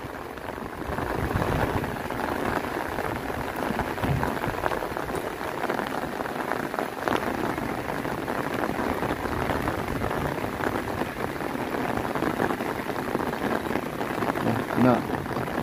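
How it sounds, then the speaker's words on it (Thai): Steady rain pours down on a surface outdoors in Thailand as a new day begins, a dense continuous wash of drops with people talking over it throughout. "ฝนตกพี่น้องฝนตก"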